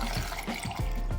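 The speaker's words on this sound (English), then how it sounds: "So I'll just add enough water to blend this." About a cup of water is poured into a blender holding peeled plantain for porridge, giving a brief close gurgle with a few bubbling splashes and sloshes.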